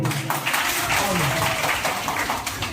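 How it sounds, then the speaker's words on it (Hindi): Schoolchildren clap loudly together for a classmate named Imran at a classroom session, a dense burst of applause lasting a few seconds, close and steady, with voices mixed in. "इमरान के लिए जोरदार ताली बजाओ।"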